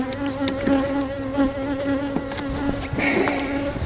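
Honey bees swarm loudly around an open beehive as the frames are checked, giving a dense, steady, close buzz that drones on throughout with no voices.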